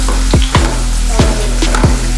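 Onions and two bay leaves sizzle steadily in a hot pan with oil for a mushroom biryani, a dense continuous fry broken by a few sharp scraping stirs, close and alone with no voices.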